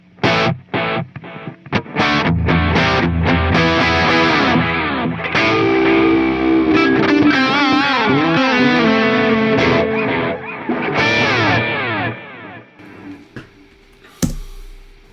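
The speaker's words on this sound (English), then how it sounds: "We're going to engage our little delay. You can hear a delay." Distorted electric guitar playing chords and lines through a delay, notes echoing and smearing into each other before fading to near silence.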